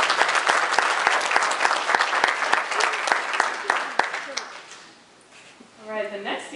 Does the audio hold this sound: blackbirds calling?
no